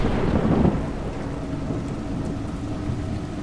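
A low rumble of thunder rolls under steady, dense rainfall in the video game A Juggler's Tale, continuing evenly throughout, with no voices.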